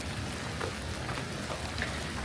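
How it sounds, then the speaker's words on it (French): Rain falls during a thunderstorm on a mountain hike near Lake Como, a continuous soft hiss at low level with no voices. "et il pleut."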